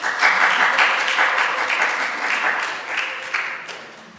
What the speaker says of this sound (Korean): 저희 교회는 목사 광고할 때 이렇게 박수를 해야 된다는 사실이